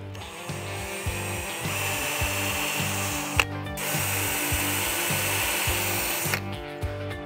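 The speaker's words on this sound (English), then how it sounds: "We're gonna drill through both pieces and run a screw in there." A power drill bores through wooden deck boards for screws, its motor whirring in regular pulsing bursts with a ratcheting rhythm and brief pauses, close and steady with no talk.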